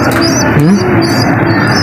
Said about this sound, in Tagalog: Pakita ko lang tong dalawang ibon natin mga kalapati